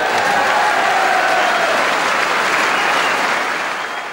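A snooker audience applauds loudly and continuously, a dense wash of clapping from a large crowd that fades slightly toward the end.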